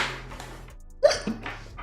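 A single sharp hiccup from a person in a quiet indoor room, short and close, followed by a soft breathy exhale.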